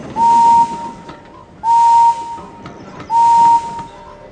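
Steam-style train engine whistles from a Thomas & Friends video game, three clean separate toots of equal length, loud and close, alone with faint background noise between.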